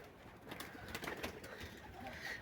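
Pigeons in a backyard loft with hens nearby give soft, low cooing calls, faint and fairly distant over a quiet rustling background, with no clear talk.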